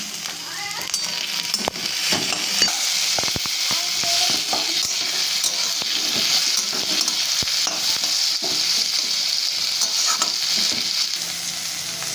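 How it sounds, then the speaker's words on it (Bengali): Chopped tomatoes frying in a pan with already browned onions give a steady, loud, close sizzle with occasional stirring clicks throughout, no talking. "এবার আমি টমেটো কুচিগুলো পেঁয়াজের মধ্যে দিয়ে দিলাম।"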